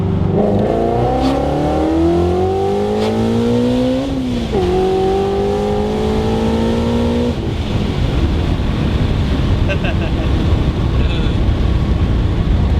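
A procharged 800 hp modified 2017 Shelby GT350 pulls hard through the gears, its engine note climbing steeply, dropping at a quick shift and rising again before easing off into road and wind roar, heard loud from inside the car.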